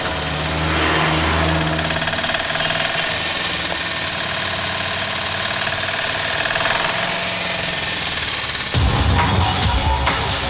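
A small auto rickshaw engine rumbles and revs steadily up close, then a louder, rougher burst of engine noise kicks in near the end.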